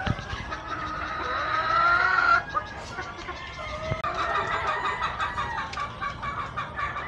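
Sweater gamefowl pullets in a breeding pen cluck and chatter in a busy mix of short calls, close by and moderately loud, with a brief high squawk early on.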